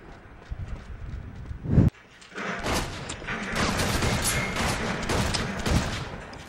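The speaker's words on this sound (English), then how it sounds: "That's a shotgun." Shotgun blasts in the video game Uncharted 2 during a shotgun-only deathmatch: a sharp loud boom near the middle followed by continuous busy game noise and scattered impacts.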